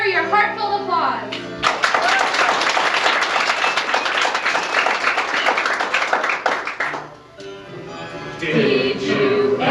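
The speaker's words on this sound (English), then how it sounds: "So let me hear your heartfelt applause." Theatre audience applauding a stage cast at a 2006 melodrama performance, dense sustained clapping that swells after a moment and runs loud for several seconds, easing briefly before rising again.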